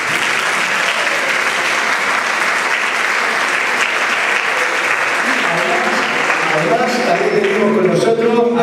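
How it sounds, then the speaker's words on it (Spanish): Sustained applause from a crowd fills the space, steady and loud, with a voice beginning to speak as the clapping continues. "Demos un fuerte aplauso para ellos."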